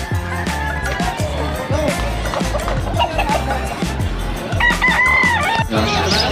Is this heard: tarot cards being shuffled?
no